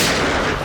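Gunfire in a shootout on a CID TV episode, a loud, dense burst of blasts that fills the short moment with harsh noise.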